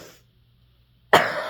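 A single sharp cough bursts out near the end after near silence, close and fairly loud, from someone with a cold.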